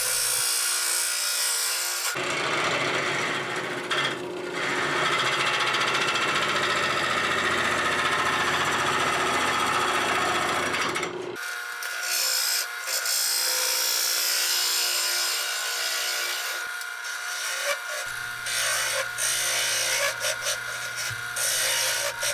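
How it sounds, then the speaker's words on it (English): Wooden bowl being hollowed on a lathe with a square nose scraper, giving a steady loud rasping scrape over the motor hum that stops briefly near the middle, then resumes with a lighter, brighter scraping. "in hollowing this bowl out, I decided to go with the square nose scraper and just kind of take it out a little bit at a time"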